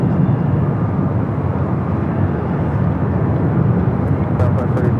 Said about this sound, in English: Air France Flight 22, Kevin from Paris, the 777-300ER, next up for arrival